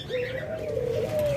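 Dove cooing among caged pet birds, heard as one steady, close call running through the moment under a soft murmur of other birds, with no talking.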